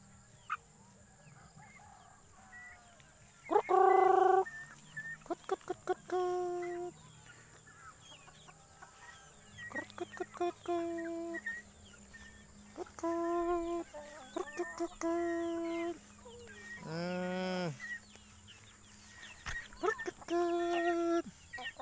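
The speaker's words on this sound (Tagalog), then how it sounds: "mga native chicken namin na alaga dito sa Awakan" Native chickens kept on a farm in Awakan cluck and squawk in repeated short bursts, with one louder drawn-out call, close by over a steady farmyard background.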